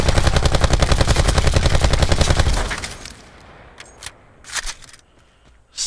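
Rapid sustained automatic assault rifle fire in Call of Duty Black Ops 4, a loud steady burst of dense shots for about three seconds, then a few scattered clicks and thuds of game sounds.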